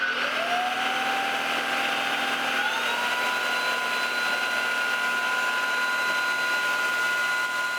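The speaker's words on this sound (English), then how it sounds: "Of course, the vacuum cleaner makes some noise," A Greenote GSC50 cordless vacuum cleaner whines at a steady pitch, its motor tone rising as it spins up, then holding an even, moderately loud hum.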